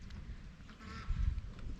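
A few soft duck quacks sound at a distance beside a frozen pond, faint against low wind and handling noise.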